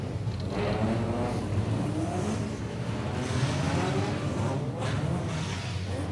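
Hot rod race cars on an oval track roar away from the start line in a full field, a loud, dense, continuous engine blare that holds steady throughout.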